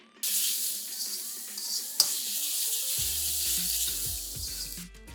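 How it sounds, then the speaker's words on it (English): Shallots, garlic and the white part of spring onion hit a wok on maximum heat, giving a loud, close, continuous sizzle with a sharp flare-up partway through and rattling tosses. "Into the wok on maximum heat goes our shallots, garlic, and the white part of our spring onion"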